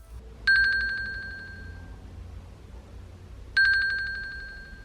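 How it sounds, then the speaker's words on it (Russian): An Apple Watch alarm signal chimes twice, each a bright bell-like tone with a sharp onset and a slow ringing decay, about three seconds apart, clear and close against a quiet background. "Сигнал сопровождается звуком и легкой вибрацией."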